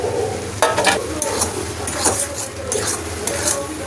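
A spoon scrapes and clatters against a pan while lote fish curry with fried brinjal and coriander leaves is stirred, with a soft, steady sizzle under the repeated close metallic strokes.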